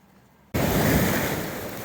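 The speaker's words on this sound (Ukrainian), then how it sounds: "Друзі, море сьогодні неспокійне. Сьогодні хвилі." Rough, choppy Black Sea waves at Odesa surging loudly onto the shore, a dense continuous roar of surf that starts abruptly after a brief quiet moment and carries on without talk.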